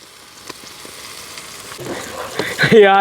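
Tomato pieces fry in a pan with a faint, low sizzle that grows louder toward the end, where a brief clatter and a tonal ring break in.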